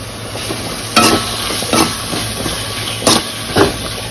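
Bitter gourd frying and being stirred in a pan, a steady sizzling hiss broken by a few scraping stirs of a spatula, close up and with no talk.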